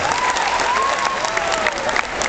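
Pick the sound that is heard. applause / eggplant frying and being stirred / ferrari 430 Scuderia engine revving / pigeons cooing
applause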